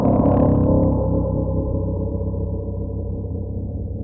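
A single wonky, slightly out-of-tune piano note, pitch-corrected, rings out loud and close with a warbling, wavering low sustain that slowly decays over about four seconds, with no talking.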